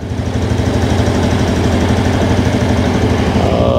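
A 2023 Yamaha EZ115 motorcycle engine idles close by, a steady low rumbling putter with a regular pulse that continues without break.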